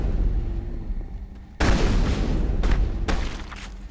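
Gunfire from the video game Mass Effect, a sudden loud blast followed by a few more muffled bangs over a steady low background rumble.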